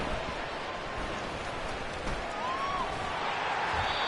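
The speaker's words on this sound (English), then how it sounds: "The rain set to continue as we are underway in the second half." Steady rain falling over an outdoor American football game in the second half, an even broadband hiss throughout with faint crowd noise behind and a commentator's voice.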